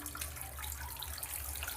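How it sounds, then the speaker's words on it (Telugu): Tap water runs steadily as water balloons are filled for Holi, a close continuous gushing stream with a low rumble underneath and no talking. "వాటర్ ఫిల్అప్ చేయడం చాలా కష్టంగానే ఉంది"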